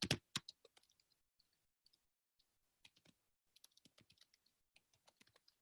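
Typing on a computer keyboard in a quiet room, with a burst of loud clacks at first, then sparse light taps and short irregular runs of keystrokes.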